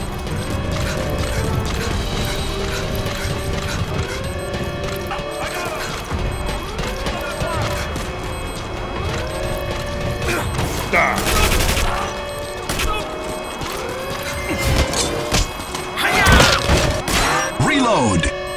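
Machine gun fire and weapon reloading in Metal Gear Solid V during a FOB raid, with dense bursts of rapid shots, mechanical clacks and crashes over layered game effects, loud and continuous with voices speaking throughout.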